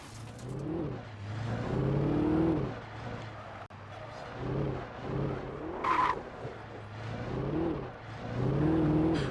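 A car engine in the video game Alan Wake revs and drives off, with a steady rising and falling motor drone, some tire noise and a sharp clatter midway, loud and close with no talking.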